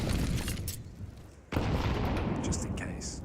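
Grenade blasts in a Counter-Strike match, with a loud rumbling boom filling the first part, a brief dip, then another sustained heavy explosion roar.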